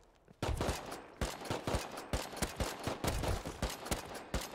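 A magazine of gunfire is emptied in Rust, loud shots firing in a steady rapid rhythm after a quiet start, with no talking over them.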